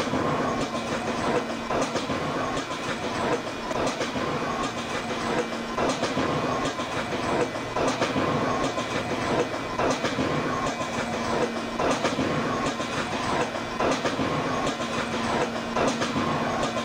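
An R143 Siemens subway train on the L line in the Roblox video game runs steadily, with a continuous loud rumble and rhythmic clickety-clack of wheels over rail joints throughout, and no talking.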